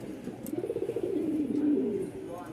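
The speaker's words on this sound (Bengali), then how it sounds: "খুব ভালো একটা কবুতর।" A reddish-brown pigeon coos in a close, rhythmic series of soft throaty pulses that run into a longer rolling coo, heard clearly with no talk over it.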